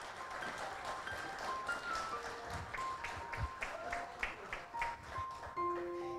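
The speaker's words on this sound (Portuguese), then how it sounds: "Uma grande salva de palmas, então, para a nossa homenageada, a mais nova cidadã sorocabana" Applause from the audience at a solemn council ceremony honouring a new citizen of Sorocaba, a soft, somewhat distant patter of clapping with a faint melody and some voices underneath.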